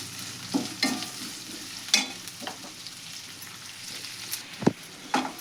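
Onions frying in oil in a pan for potato palya, with a soft steady sizzle broken by a few sharp stirring scrapes and clinks of a spoon, close and fairly quiet, no talking.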